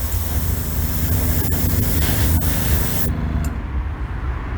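Wet coats of spray paint go onto an Indian motorcycle part: a loud, close, continuous aerosol hiss for about three seconds that then cuts off abruptly.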